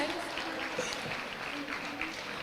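An audience at a school's annual celebration claps in a dense, steady patter, heard a little way off and fairly faint, with no break across the short stretch.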